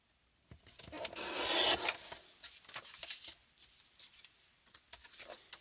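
Card stock trimmed for a festive shaker card: a close, rising rasp of cutting through paper, then scattered light rustles and taps as the piece is handled, quiet with no talking.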